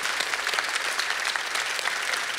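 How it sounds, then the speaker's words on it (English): An audience gives a round of applause for a team at a talk: a loud, even wall of many handclaps, with individual claps popping out of the steady crowd noise. "So you give them a round of applause."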